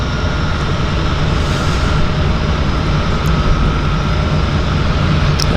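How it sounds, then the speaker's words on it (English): A Twin Otter aircraft's engines drone steadily at a downtown harbour seaplane airport, loud and continuous throughout, with no talking. "We've got the Beaver coming in to dock, and we've got the Twin Otter."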